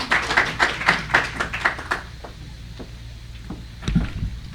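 A short burst of audience clapping for a speaker at an anti-corruption conference event, with loud rhythmic claps in the first two seconds that quickly thin out into a few scattered, softer claps and a late thump.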